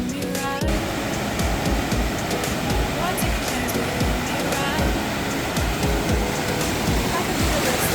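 Ocean waves washing in at a beach, a steady loud roar of surf and wind that fills the whole scene, with people talking faintly underneath.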